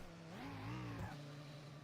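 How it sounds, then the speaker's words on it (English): A Formula One car in the racing game F1 Challenge 99-02 revs its engine during a 2004 French Grand Prix session, giving a brief, fairly faint rising and falling whine that climbs, dips and settles to a steady drone. "Let's listen to how loud this car is."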